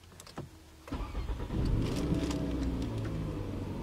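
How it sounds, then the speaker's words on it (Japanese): A Toyota Camry G Limited with custom air suspension and about 70,000 km cranks briefly, then its engine catches and settles into a steady, close idle, with no talking. "それではエンジンをかけていきます。"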